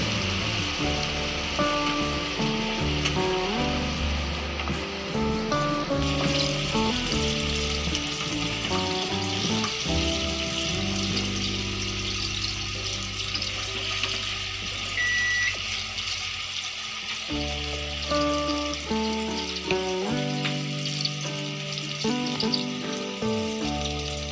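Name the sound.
paneer frying in a pan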